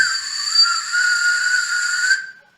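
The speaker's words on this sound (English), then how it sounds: "So when a air passes through small nozzle, the sound will come." A whistle blown with air forced through a small nozzle gives a shrill, steady, loud tone for about two seconds, then cuts off and fades quickly.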